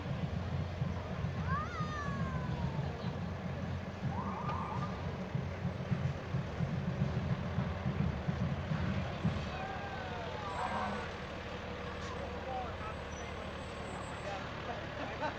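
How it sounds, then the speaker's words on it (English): Fire department pumper trucks roll past in a homecoming parade, a steady low engine rumble with occasional faint horn and siren chirps and a brief high whistle, under crowd noise and talk. "we've got a couple more pumper trucks coming"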